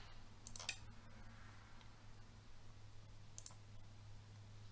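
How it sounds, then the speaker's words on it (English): A relay inside a GreenFit controller clicking on, a couple of small sharp clicks near the start and another later, faint against a steady low electrical hum. "If you listen closely, you'll actually hear the relay in our GreenFit controller click on."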